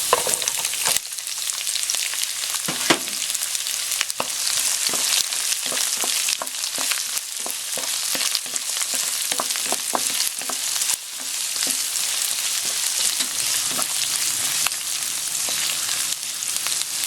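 Onion sautéing in a hot pan for fresh spring rolls gives off a dense, continuous sizzle. Frequent crackles and pops run through it, close-up and with no voices.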